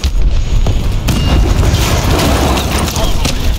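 Heavy booming explosions rumble continuously, loud and close, with crashing debris in a chaotic video game battle at a nuclear plant under terrorist assault.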